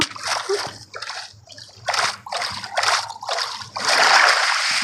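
Water splashes in Minecraft during play at an XP farm, with repeated bursts of splashing and sloshing at an uneven rhythm and a steady rush near the end.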